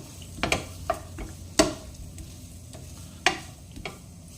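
Cooked chicken salad seasoned with pepper is stirred in a bowl, giving several close, uneven spoon scrapes and soft taps over a quiet background.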